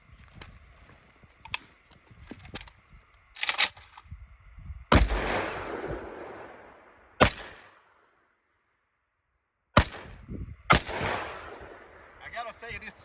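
A WBP Jack AK rifle in an RPK setup fires several separate, loud, sharp single shots at irregular intervals, each followed by a short decaying echo. There is a brief silent gap between the shots.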